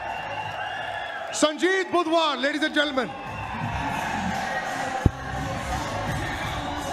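Spectators at the MFN 9 mixed martial arts main event cheer and applaud the winner in a broad crowd roar, first under a loud announcer's voice and then continuing on its own.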